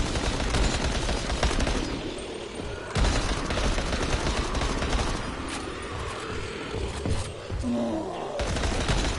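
Rapid SMG gunfire in the zombie game Dying Light: The Following, loud continuous bursts of automatic shots close up, broken by short pauses and dense rattling volleys throughout.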